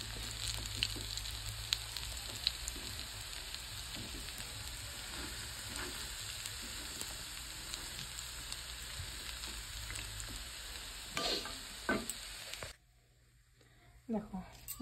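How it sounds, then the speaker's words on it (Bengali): Bay leaf and five-spice seeds fry in leftover oil from frying fritters, giving a steady, dense sizzle and crackle that runs on before abruptly dropping near the end, with a few faint clinks after. "ওই তেলের মধ্যেই দিয়ে দিলাম তেজপাতা আর হচ্ছে পাঁচফোড়ন"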